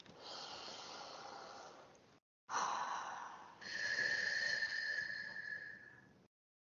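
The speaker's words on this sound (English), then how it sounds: "Let's take a deep breath." Slow, deep breaths heard up close during an EFT tapping breathing exercise: a long inhale, a short pause, then a longer airy exhale, soft and unhurried, with no talking.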